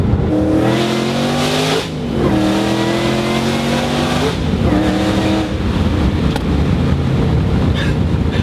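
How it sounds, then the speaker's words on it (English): A supercharged 2008 Shelby GT500 engine revs loudly up and down several times, its rising tone carrying a thin supercharger whine, with wind rushing past. "you're just blown away with that little hint of supercharger whine"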